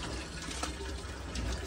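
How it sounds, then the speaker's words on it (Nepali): Water runs from a tap into a bottle, a steady close rush of filling liquid that continues without a break for under two seconds. "अहिले चाहिँ पानी भरिरहेको छु"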